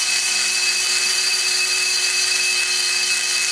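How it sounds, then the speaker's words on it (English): A power sander grinding a casting mark off the metal of an LS exhaust port gives a steady, high-pitched whine with a bright tonal edge, close and continuous for a few seconds. "What's left of the casting mark, we can take off with the sander"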